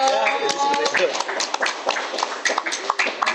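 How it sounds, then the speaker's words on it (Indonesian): A few people in a casual chat setting clap briefly, sparse irregular hand claps close by, mixed with talking voices. "Ya tepuk tangan dulu dong."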